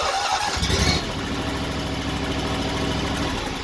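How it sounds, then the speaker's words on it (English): A lawn mower engine cranks loudly up close, then settles into a steady, throbbing mechanical run for the rest of the stretch, with no voices. "you can crank the mower not standing on it"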